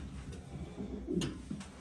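Pigeons kept by a fancier coo softly, a few low throaty calls rising over a faint background, with brief higher chirps mixed in.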